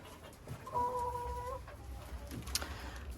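Hens settling for the night in a coop at dusk as eggs are gathered give a few soft, brief clucks close by against a low background rumble, with no talking.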